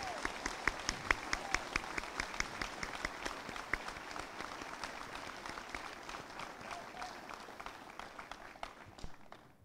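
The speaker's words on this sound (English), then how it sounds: "Please give these students a big round of applause." A crowd at a 2022 high school graduation ceremony applauds for the graduating students, with distinct individual claps standing out in a fairly quiet, distant, sustained round that fades at the end.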